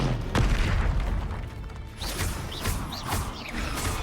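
Confringo fire spell blasts from the Hogwarts Legacy video game, a series of booming explosive impacts with crackling debris, several bursts spaced across a few seconds over a continuous game soundscape.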